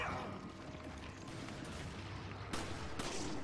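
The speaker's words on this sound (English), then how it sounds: "Explosion knocked me off." In-game explosion and gunfire in Resident Evil 5, a dense rumbling wash of blasts and mechanical clatter with two sharp louder cracks near the end, steady and close, with no speech.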